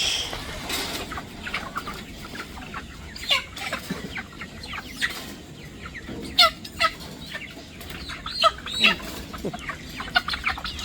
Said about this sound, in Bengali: মুরগিগুলো কেমন ভাই